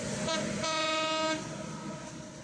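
A Dhaka–Khulna passenger train crosses the Padma Bridge, sounding a loud, sustained horn blast over a steady rolling rumble of the cars.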